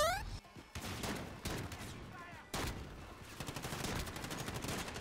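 Gunfire from Modern Warfare in Gun Game mode comes as bursts of rapid shots and sharp single cracks, loud and close, with short gaps between volleys.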